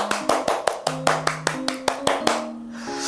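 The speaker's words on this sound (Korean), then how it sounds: "함께 수고하신 모든 분들에게 한번 수고와 감사의 박수하도록 하겠습니다." Church congregation at a Bible correspondence class claps in thanks at the end of a session: a short run of about a dozen sharp, evenly spaced claps close by, with a sustained tone beneath, ending in a brief pause.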